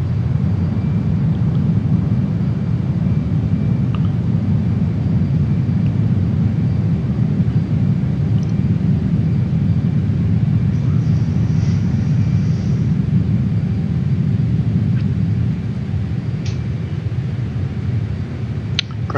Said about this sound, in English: When you engage the burner, you get a nice low, ominous rumble